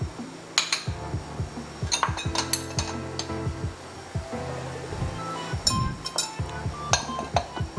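Pakora ingredients of anardana, coriander, red chilli, salt and green chillies are stirred in a bowl, giving repeated metallic clinks and scrapes of a utensil against the bowl over a steady background hum.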